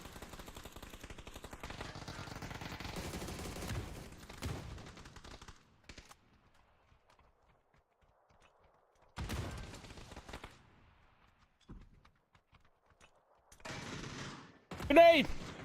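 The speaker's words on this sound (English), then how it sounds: "We have a shotgun fighting shotgun happening right now." Shotgun exchanges in a video game: bursts of loud gunfire open the stretch, then quiet gaps, then further clusters of shots and a sharp final blast.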